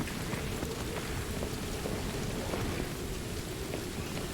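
Steady rain pours throughout a level in Modern Warfare 2 Remastered, a dense, even hiss of raindrops with low rumbling texture, continuous and fairly loud with no talk over it.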